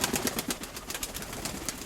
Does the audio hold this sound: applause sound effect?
no